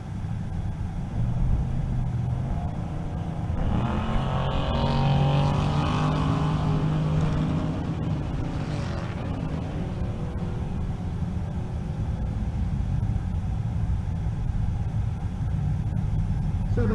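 A Camaro and a Corvette launch side by side down a quarter-mile drag strip in Kearney, Nebraska. A constant low rumble carries a rising engine whine that sweeps upward, then fades back into the background drone.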